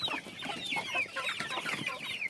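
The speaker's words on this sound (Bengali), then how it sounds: "এই যে বাচ্চা মুরগি এগুলো আমার ঘরে মানে মুরগি থেকেই তোলা বাচ্চাগুলো" Several hens and chicks cluck and chirp close by in a home flock during winter, a busy overlapping chatter of soft clucks and high peeps with no talking.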